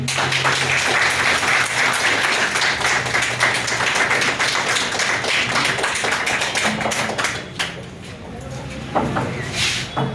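Hearty clapping for a student from batch M37 at a coaching-institute success event: dense, sustained applause thinning toward the end into separate claps, with voices faintly beneath it.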